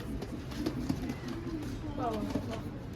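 Soft, low cooing of a pigeon inside a box, muffled and close, repeating in short throaty phrases with quiet background noise.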